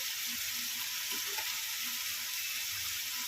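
Homemade masala for dry Bombay duck sautés in a hot pan, a dense steady sizzle with light stirring scrapes underneath, close and continuous.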